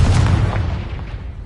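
A Confringo blasting spell bursts into a low, rumbling explosion in Hogwarts Legacy, a dense boom that rolls on and slowly fades over a second and a half, with nothing else heard.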